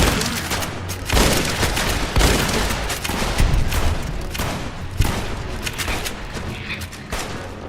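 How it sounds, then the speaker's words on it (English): A hunting shotgun firing in the game Fallout: New Vegas during a battle, a series of loud, booming blasts roughly a second apart over constant dense combat noise. "Hunting shotgun."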